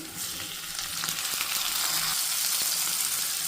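Onions sizzle and crackle in hot oil in a pan while a curry is being cooked, a steady close frying hiss with a few stirring scrapes and no talking.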